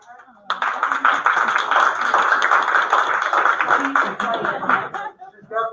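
A room at a school board meeting breaks into a round of applause for a staff member, steady clapping from a modest group lasting several seconds, with a few voices and chuckles mixed in before it tapers off.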